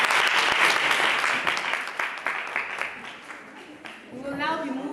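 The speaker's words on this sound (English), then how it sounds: "Another round of applause." An audience at a national science week debate event breaks into loud applause that gradually thins and fades, and a voice starts speaking at the very end.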